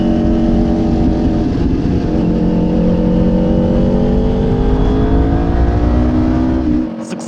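A motorcycle rides off and accelerates, its engine note climbing through rising gear sweeps, loud and close, before cutting off abruptly at the end.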